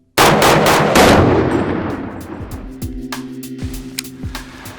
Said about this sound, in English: You're shooting Federal 175 grain gold medal match, which is pretty much the gold standard for 308 in this role.